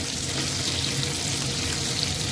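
Capsicum frying in a hot pan while being stirred, a steady, loud sizzle that runs on evenly throughout with no voices.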